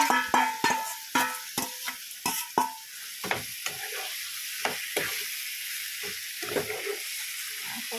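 Duck meat drops into a pan of fried spices and sizzles, with sharp scraping stirs at first, then sparser knocks over a steady frying hiss.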